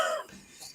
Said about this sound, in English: Every time I talk, the cough interrupts me and all that.